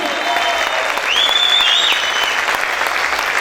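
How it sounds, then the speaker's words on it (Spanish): A worship congregation claps hard and continuously for the Lord, a thick steady roar of applause with a brief shout or whistle-like voice gliding over it midway. "A ver, aplaude fuerte al Rey"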